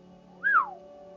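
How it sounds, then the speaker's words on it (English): A person whistles once, a clear, fairly loud note that slides up and falls away, heard alone within a narrated audiobook scene. "A whistle left Gren's lips."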